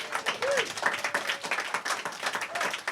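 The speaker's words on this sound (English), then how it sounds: "Can we get another big round of applause for Amy Mason and Immortal Jack whilst we're here?" A live studio audience gives a big round of applause for guests Amy Mason and Walter Jack, dense continuous clapping at close range with a few whoops and a voice over it.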